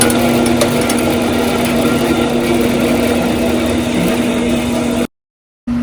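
Powermatic bandsaw motor humming steadily with a strong constant tone, then cutting out abruptly into silence before a brief return of the hum at the end.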